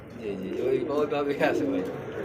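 Pigeons at a Bangladeshi pigeon farm give short, close cooing calls, a warbling rise and fall mixed with a voice speaking over them.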